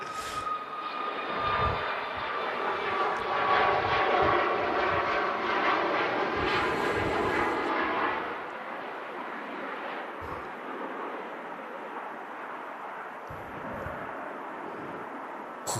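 An airplane departs Manchester Airport in gusty wind. Its engine roar builds and holds loud through the first half, then eases into a steady distant rumble. No voices are heard.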